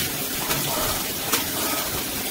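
Hot water runs from a tap in a steady, close broadband rush of flowing water with no breaks, alone for a couple of seconds.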